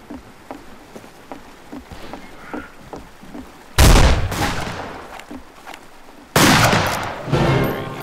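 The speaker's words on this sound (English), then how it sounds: "Oh, somebody shot at me." Gunshots in the Western shooter Fistful of Frags: faint distant pops at first, then two loud, close blasts that ring out and decay, a few seconds apart.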